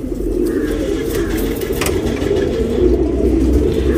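Tournament racing pigeons coo steadily and close by, a continuous low throaty murmur with no talk over it.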